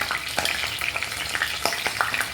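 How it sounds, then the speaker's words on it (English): Sausages dipped into hot oil fry with a dense, crackling sizzle full of rapid pops and spatters, close and steady with no speech. "We are going to dip our sausages in the hot oil."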